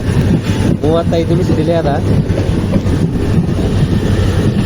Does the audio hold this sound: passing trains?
yes